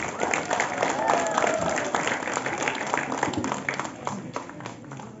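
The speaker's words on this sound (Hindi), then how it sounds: "इसलिए इनका भी तालियों से स्वागत कीजिए।" An audience at a public event applauds to welcome children who performed a song, with scattered, uneven clapping at moderate volume that thins out toward the end.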